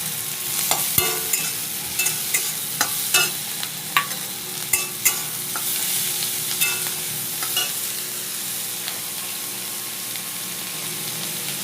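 Grated ginger and spices are stir-fried in a pan with a continuous sizzle, while a spatula knocks and scrapes at irregular intervals close by.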